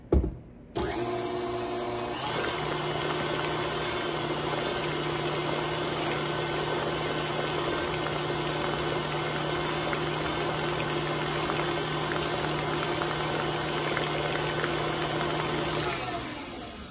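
An electric mixer whirring steadily through cheesecake batter in a home kitchen, a loud continuous motor drone that starts abruptly and holds for about fifteen seconds before cutting off.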